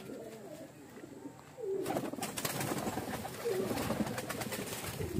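Breeder pigeons coo in a loft, soft rolling calls that start faint and become louder and busier, with overlapping coos and light rustling close by.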